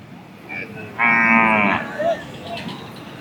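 A Kangeyam cow moos loudly at the Kannapuram cattle market, a single deep, harmonically rich call lasting under a second. It is followed by a brief softer grunt over a steady background of outdoor market noise.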